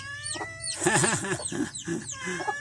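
Chickens being fed cluck and squawk up close in quick, overlapping bursts of calls.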